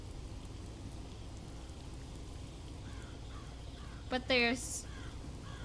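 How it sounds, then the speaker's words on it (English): A raven or crow in the game Rise of Insanity, perched in a graveyard, caws a few times in a short harsh burst near the end, over steady rain-like hiss, with a voice briefly heard. "ravens or crows are just, like, sitting on top of the graves"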